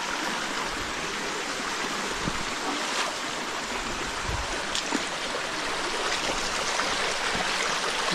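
A steady rush of flowing water, a stream near a carabao's bathing spot, runs continuously at moderate level with no talk over it.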